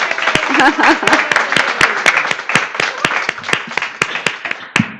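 A congregation at a spiritual living center applauds a woman who gifted a peace pole, with loud, distinct claps in a steady rhythm while a voice briefly speaks over the start.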